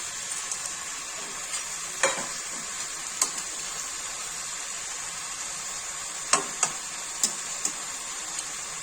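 Mixed winter vegetables fry in a pan for a Bengali curry, a continuous close sizzle with scattered sharp clicks and taps from a stirring utensil, no voices over it.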